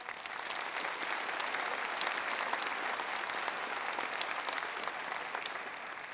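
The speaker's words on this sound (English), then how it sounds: "Let's clap for that." Audience applause at a university engineering and architectural science convocation ceremony, a large hall of hands clapping in a dense, even roar that holds steady and fairly loud for several seconds without talk.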